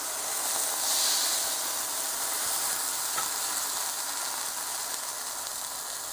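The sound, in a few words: rice wine vinegar and sake hissing in hot pan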